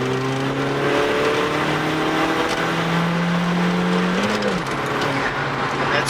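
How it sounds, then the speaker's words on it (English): A VW Polo accelerates flat out in third gear from about 70 to 120, its engine note climbing steadily and loud under wind and road roar, with a brief shift in pitch near the end. "So that was just a third gear pull, flat foot"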